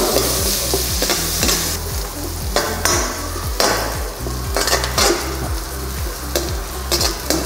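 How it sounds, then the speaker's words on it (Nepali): Onions stir-fry in a pan over garlic, a loud continuous sizzle punctuated by regular scraping strokes of a spatula moving them around. "र प्याजलाई पनि एकछिन भुट्ने।"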